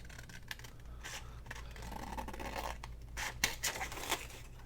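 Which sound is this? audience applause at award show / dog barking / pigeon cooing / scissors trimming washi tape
scissors trimming washi tape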